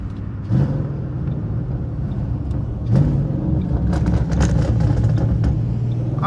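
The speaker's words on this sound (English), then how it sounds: "the car does sound pretty good" A car engine runs steadily in traffic, a low continuous rumble with slight swells and faint interior clicks, heard from inside the car.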